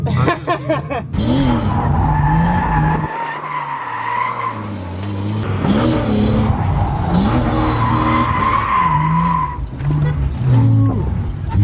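A BMW E36 drift car screeches through repeated tire skids, long loud squeals rising and falling over a revving engine, with brief pauses between slides and a voice faintly in the background.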